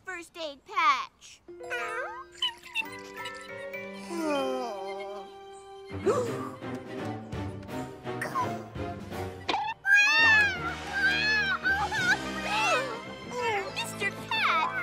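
A cartoon cat from the animated series Kid vs. Kat gives a string of expressive, wavering meows and yowls. They are close and clear, mixed with playful music and bright cartoon voices.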